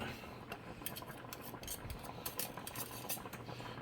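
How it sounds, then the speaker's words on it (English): A utensil stirs thickening sauce in a pan with quiet, repeated scraping taps against the metal over a low background hiss. "we're just going to stir that up and bring it up to like, a little bit of a boil"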